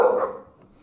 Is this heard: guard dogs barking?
yes